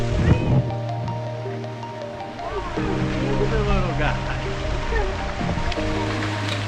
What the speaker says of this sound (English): second waterfall, but it's small and cute